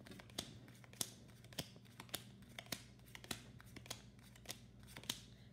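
Cards for the VINO! wine card game being dealt one by one, a quiet sequence of crisp, evenly spaced flicks and snaps, faint and close, with no talking.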